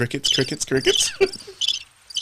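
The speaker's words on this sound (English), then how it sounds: "Crickets." High, shrill cricket chirps come in short repeated trills, loud and close, with brief sounds mixed in at the start.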